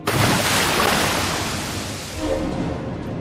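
Strong ocean waves crash in a dramatized sea scene, a loud rushing surge that peaks at the start, eases off and swells again before fading, with wind-like hiss throughout.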